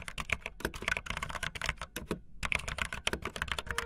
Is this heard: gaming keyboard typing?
yes